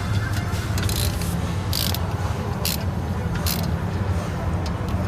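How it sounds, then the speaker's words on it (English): Ratchet wrench clicking as brake caliper bolts are tightened during a brake pad change, in rapid bursts of sharp ratcheting over a steady low rumble. "Ratcheting away"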